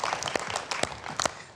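An audience at an Indonesian talk show claps in a short, sparse burst of applause, with individual hand claps close and distinct rather than a dense roar.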